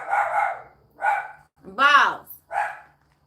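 A dog barks in short, hoarse bursts, four close loud barks spaced about half a second apart with a strained, whining rise on one, heard alone without talk.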